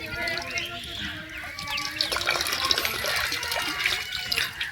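Water splashes and churns as someone bathes in a village pond, a continuous close sloshing with bursts of louder splashing and faint voices in the background.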